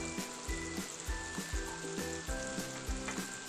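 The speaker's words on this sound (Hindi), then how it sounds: "अब इन सब चीज़ों को हम अच्छे से भून लेते हैं 2-3 मिनट के लिए" Shredded cabbage, onion, grated carrot, capsicum and sweet corn frying in a pan with a little oil, sizzling continuously while a spatula scrapes and stirs in a steady rhythm of repeated strokes, close and unvoiced.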